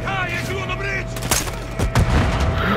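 Gunfire and explosions in Call of Duty: Modern Warfare 2 make a dense, loud mix of shots and booms, with a voice speaking over the action.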